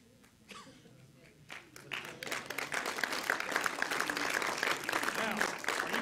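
Audience applause at a talk by a special speaker, starting as scattered claps and swelling into a steady, full round of clapping from a crowd indoors.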